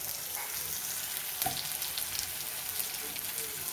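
Chickpeas fry in a karai pan for ghugni, giving a steady broadband sizzle with a single brief clatter midway, no voices.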